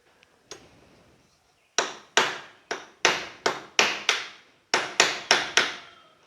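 A handle-less screwdriver is struck to cut a rivet on a mixer grinder body over a firm base. A couple of faint knocks come first, then about a dozen sharp, close taps in an uneven rhythm.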